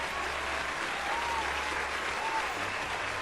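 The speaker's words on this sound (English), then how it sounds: "Give her a round of applause." A round of applause from a studio audience, a steady, even wash of many hands clapping at moderate distance, with no voices on top.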